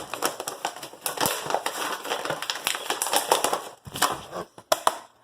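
DuckTales toy figures being pushed out of plastic blister packaging, a dense run of crackling, crunching plastic pops and snaps close up, with a few sharper snaps near the end.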